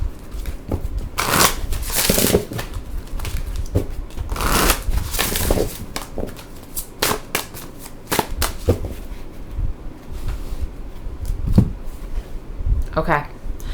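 Tarot cards being shuffled by hand in bursts of riffling and flapping, with a voice speaking intermittently over the near, soft card sounds.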